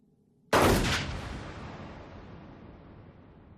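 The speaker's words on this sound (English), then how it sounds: "Did the noise of the gun give her a heart attack?" A single loud gunshot from the 1996 film Romeo + Juliet cracks out of near silence, then rings off in a long reverberant decay that slowly fades away.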